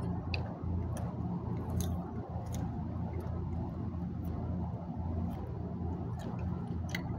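Raw garlic cloves are chewed close up in steady, soft, wet mastication sounds, with a few sharper clicks scattered through a low background hum.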